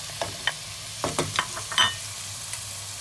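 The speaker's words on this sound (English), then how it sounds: "Now you're adding your onion and garlic." Onion and garlic sautéing in heated olive oil, with a soft background sizzle broken by scattered clicks and scrapes of stirring, close and fairly quiet.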